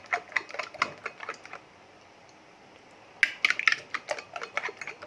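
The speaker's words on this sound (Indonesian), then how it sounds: "Dikocok-kocok dulu biar rata." Two eggs beaten with a fork in a bowl for an instant-noodle pizza, giving quick rhythmic clinking taps in two bursts separated by a short pause, close and fairly soft.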